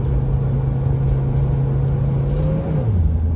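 A Mercedes Sprinter 2500 van with a failing transmission, its engine holding a steady mid-pitched drone in third gear, then dropping in pitch as it shifts hard near the end.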